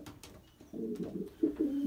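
A racing pigeon, offspring of a two-time ace bird, gives soft low coos close by, a few rounded calls after some faint taps.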